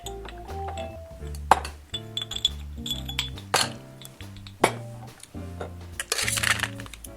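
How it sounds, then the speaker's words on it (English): Ice cubes, including a large moai-shaped cube, are dropped into a metal cocktail shaker, giving several sharp clinks and rattles spread irregularly over the clip, close and clear. "Now, we're going to add the ice and give it a wet shake."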